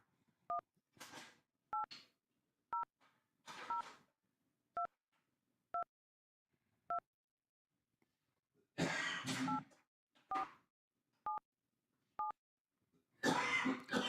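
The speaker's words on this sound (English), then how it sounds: "Let me phone that number." Touch-tone telephone keypad dialing a toll-free tip line number, a steady series of short, evenly spaced DTMF beeps heard alone and clearly, broken by a few coughs or throat-clearing noises between the tones.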